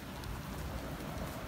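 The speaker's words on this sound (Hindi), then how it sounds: "साथ में बारिश भी हो रही है और मैं भीग चुकी हूँ।" Steady rain falling outdoors during a stormy day on a Pakistani vacation, a dense, even hiss of drops spattering on surfaces, continuous and fairly close with no voices.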